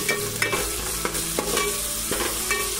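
Clam curry masala with tomato and ginger-garlic paste fries in a pan, making a steady close sizzle with repeated scraping and stirring taps, and no voices.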